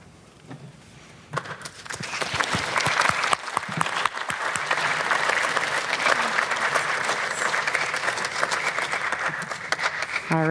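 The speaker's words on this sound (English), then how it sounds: "Can we get one more round of applause for both of our speakers for coming out this evening?" An evening audience at a seabird talk claps in sustained, dense applause that rises quickly and continues steadily, with no speech over it.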